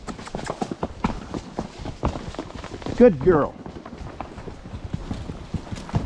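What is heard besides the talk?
mule hooves walking on desert trail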